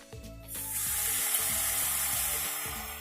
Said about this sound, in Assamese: এতিয়া ইয়াত আমি ধুই থোৱা মূলাখিনিও দি ভালদৰে মিহলি কৰি ল'ম।